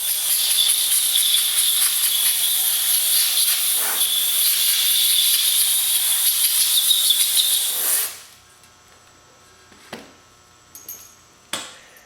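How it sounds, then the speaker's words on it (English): Compressed air blasts out the bolt holes and threads of aluminum 14-inch beadlock rims, a loud, continuous high hiss that cuts off abruptly partway through, leaving quiet room tone with a few faint clicks and taps. "I like to blow all the holes out, blow the threads out"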